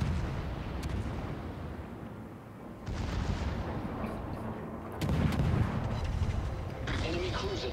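Warship shell volleys booming in the naval video game World of Warships, heavy rumbling gunfire layered with distant blasts, swelling louder near the third and fifth seconds, with faint talk underneath.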